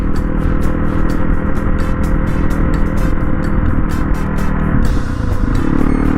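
A WR motorcycle is ridden on a road, its engine loud and close with a rough, pulsing rev that eases and shifts near the end, with no talking.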